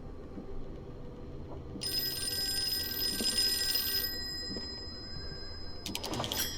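An old-fashioned telephone rings in the Lovecraftian horror game Call of Cthulhu: two bright, metallic bell bursts stand out over a low ambient game backdrop, the first sustained for about two seconds and a second starting near the end.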